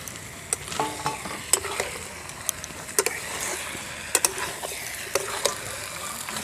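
Chicken curry with tomato, coriander and green chilli, cooked village style, is stirred in a pan: a low sizzle runs throughout, broken by irregular scraping clicks of a spoon against the metal.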